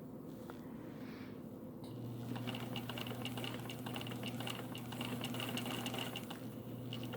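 A Brother SE600 embroidery machine, set up for quilting, is turned by hand, giving soft mechanical clicks and ticks; after a couple of seconds a low steady hum joins, and the repeated ticking continues quietly beneath it.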